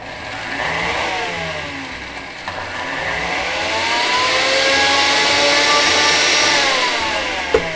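An electric spice grinder blends chai masala with cinnamon powder, giving a loud, steady motor whine that swells and dips in pitch and runs continuously for about eight seconds with no talking.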